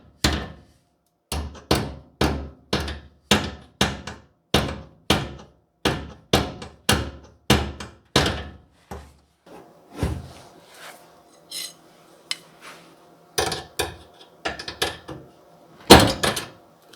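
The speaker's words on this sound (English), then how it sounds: "I'm gonna have to tap it in with a hammer, I think." A small, lightweight hammer taps repeatedly on a part of a 1996 Ford F150 during fuel pump and gas tank work, sharp metallic knocks in a steady series, then scattered irregular strikes with faint clatter, close and loud with no talk.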